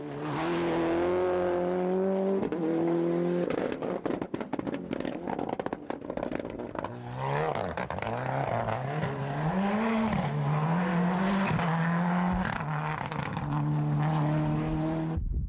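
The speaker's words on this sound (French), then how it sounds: "avec une Toyota pétaradante" A Toyota rally car at speed on the 1993 Condroz rally, engine roaring and sweeping up and down through gear changes, with sharp popping backfires crackling over the loud, continuous drone.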